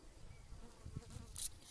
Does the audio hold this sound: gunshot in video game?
no